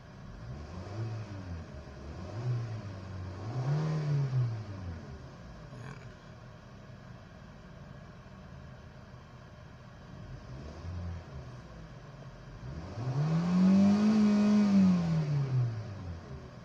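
A Kia engine revs after a throttle body cleaning, with several quick throttle blips rising and falling, then one longer, louder rev near the end, all close by over a steady idle.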